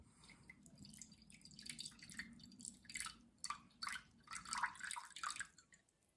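Water trickling into a container to dilute a powdered hair mask, a soft irregular splashing and dripping that builds in the second half, close and quiet with no talking.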